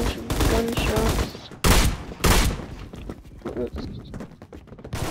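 Gunfire in the Roblox shooter Phantom Forces: a dense fusillade of shots with two sharp loud bursts early on, then scattered quieter shots continuing under the game's ambient noise.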